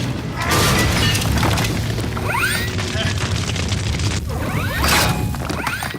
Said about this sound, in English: The whole wall gets caved in as Iron Man hits it, and then you have a much larger fire explosion element.